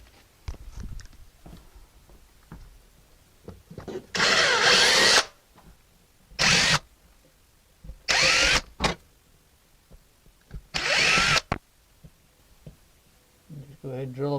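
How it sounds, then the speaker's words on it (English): A power drill bores holes in a wall for mounting wire shelving, four loud whirring bursts of a few seconds each separated by quiet pauses. "the next thing you're going to do is drill your holes"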